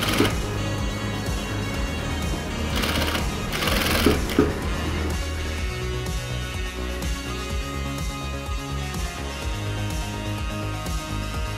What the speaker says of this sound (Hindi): अब हम यहाँ पे सिलाई लगाएंगे।